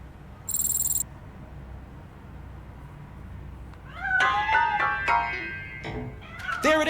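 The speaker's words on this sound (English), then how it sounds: "That cat must be hiding inside." A cat hidden inside a piano in the video game Robocop: Rogue City gives several short, rising meows close by, after a brief electronic beep and a stretch of low background hum.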